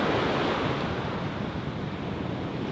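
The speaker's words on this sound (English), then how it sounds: "I think the tide is going to come up, there's a bit of a swell" Sea waves and swell wash onto the shore in a steady, loud roar of surf with wind noise on the microphone and no voices.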